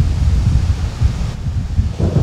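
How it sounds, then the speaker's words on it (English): Deep, continuous rumbling of thunder mixed with heavy wind buffeting the microphone, loud and close throughout with no pauses. "Listen to that thunder."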